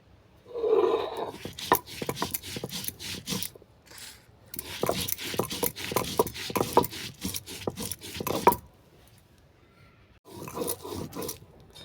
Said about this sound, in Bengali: এরপর লঙ্কার পোস্তটা আমি একসঙ্গে বেটে নেব